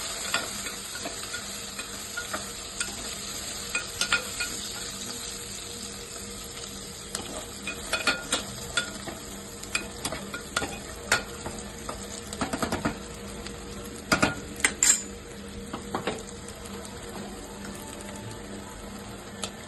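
Dried prawns sizzle and crackle in a pan while a utensil stirs them, with scattered scraping and clicking strokes over a steady frying hiss, heard close and without speech.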